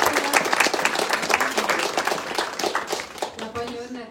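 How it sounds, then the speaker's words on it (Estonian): An audience at an Estonian book launch gives the authors a loud burst of dense applause that fades slightly toward the end, with a voice speaking over it. "teeme ühe võimsa aplausi autoritele"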